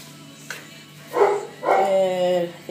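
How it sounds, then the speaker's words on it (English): Beagles bark and yip in a few short bursts, close by, with a long bark drawn out near the end over a quiet background. "Beagles, beagles everywhere."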